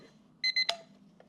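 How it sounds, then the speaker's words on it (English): An alarm clock going off in the morning: two short, clear electronic beeps followed by a brief click as it is silenced, fairly faint against a quiet room. "oh, wait a minute. Let me turn off my alarm."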